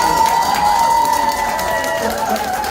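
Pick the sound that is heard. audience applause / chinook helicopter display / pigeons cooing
audience applause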